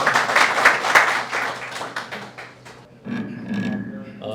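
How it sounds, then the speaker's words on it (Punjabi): Applause from an audience at a Punjabi poetry gathering held at a cultural center, a dense clapping wash for about three seconds that fades, followed by someone talking over lighter room noise. "ਇੱਕ ਵਾਰੀ ਜ਼ੋਰਦਾਰ ਤਾੜੀ ਹੋ ਜਾਏ ਇਹਨਾਂ ਦੇ ਨਾਲ"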